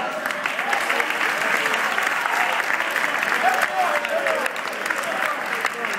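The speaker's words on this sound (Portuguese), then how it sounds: "Palmas pra ele." Applause for a boy, a steady wash of clapping from a small group that runs continuously at moderate loudness, with a few voices calling out over it.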